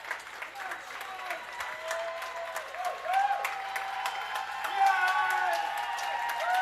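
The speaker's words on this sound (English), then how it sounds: "Looks like the crowd's shouting" At a swimming race, a crowd shouts, whoops and applauds in a sustained burst that grows louder toward the end, with a commentator speaking over it.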